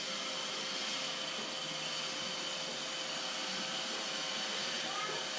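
A Roomba robot vacuum working across a tabletop gives off a steady, close, airy whir that stays even and unbroken from start to finish, with no voices over it.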